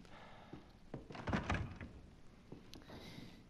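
A door opens in the video game Resident Evil 7 with a muffled thunk and creak, one heavier knock in the middle, faint and close against a quiet background.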